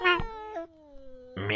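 A cat gives a drawn-out, wavering meow, a long falling call followed by a brief louder yowl at the end, close and clear against near silence.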